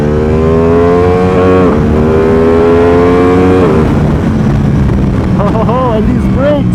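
A Ducati Panigale V2 motorcycle engine revs up in two rising pulls, then drops back; the sound is loud and close, with a voice speaking near the end.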